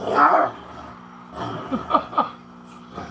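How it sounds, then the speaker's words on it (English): Dogs bark in the distance, several short yips and barks in a loose cluster, heard faintly with other background noise and no talk over them. "I hear my dogs over there."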